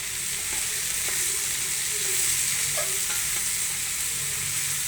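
Rajma fried with salt, chilli powder and masala sizzles steadily in a pan, a continuous hiss with occasional stirring scrapes, alone without talk.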